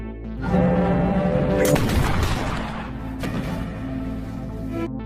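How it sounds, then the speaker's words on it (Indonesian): Gunshots ring out in a film scene, with two loud, sharp bursts, the second softer, cutting through a sustained tonal musical backdrop. "Jack langsung menembak Donnie sampai mati"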